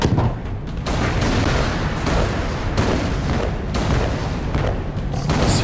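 Cannon fire in the video game Alice: Madness Returns, a steady run of booming shots over a dense, continuous battle din with no talk.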